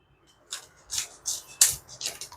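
A freeze-dried Korean ramen packet is cut open with scissors in a quick series of about five close, crisp snips and crinkles, with no talking.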